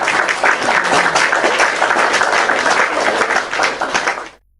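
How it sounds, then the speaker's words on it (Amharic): Warm applause from an audience for a family, a dense, steady wash of many hands clapping for about four seconds before cutting off abruptly. "ሞቅ ያለች ጭብጨባ ለቤተሰቦች"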